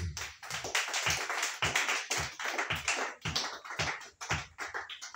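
A church congregation claps together to acclaim the Lord, giving a dense, lively burst of many hands in a fast, steady rhythm that continues loudly throughout.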